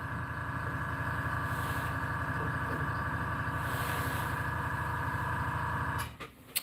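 Airbrush spraying paint onto a fishing lure while painting koi patterns: a steady, close motor hum under a continuous airy hiss that cuts off abruptly near the end.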